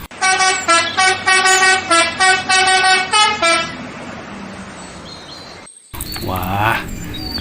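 A toy bus's telolet horn plays a rapid, bright musical melody of repeated tooting notes, loud and close, before fading into noise and a later burst of higher sound.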